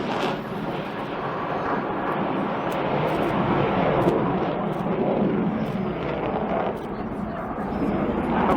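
Dassault Rafale fighter jet flying at an RAF Cosford airshow, a loud sustained roar of jet noise that swells and holds steady throughout, broadband and continuous with no clear breaks.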